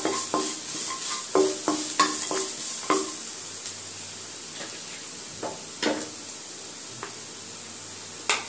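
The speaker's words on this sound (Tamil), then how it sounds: "ஹாஃப் கப் தேங்காய் துருவல், அதையும் நல்லா ஃப்ரை பண்ணிக்கலாம்." Grated coconut fries in a pan for rava laddu, with a steady soft sizzle under repeated scraping stir strokes of a spoon against the metal, close and moderately loud.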